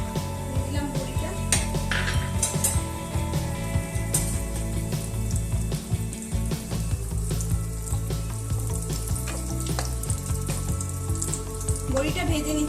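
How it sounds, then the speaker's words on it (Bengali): Bori lentil dumplings fry in hot oil with a bubbling sizzle and occasional utensil clinks, set against a strong steady low hum and tonal background sound throughout. "বড়িটা ভেজে নিচ্ছি"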